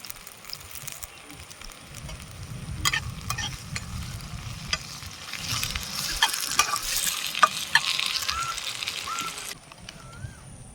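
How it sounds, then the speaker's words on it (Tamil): Curry leaves frying in a pan of duck gravy with softened onions, a moderate sizzle with spattering pops and occasional stirring scrapes, growing busier midway before cutting off. "கருவேப்பிலை கொஞ்சம் போட்டுக்கலாங்க."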